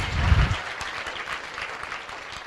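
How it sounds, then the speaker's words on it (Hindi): Audience applause at a Jain religious discourse, a burst of clapping that starts loud and close, then quickly thins into a lighter, steadier patter of scattered hands. "तालियां बजाकर हर्ष के साथ अनुमोदना कर दें।"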